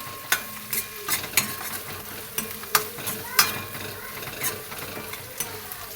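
Spring onion greens frying in a pan for pathichi kadhi over a high flame, a soft steady sizzle broken by repeated scraping clicks as they are stirred, close and without talk.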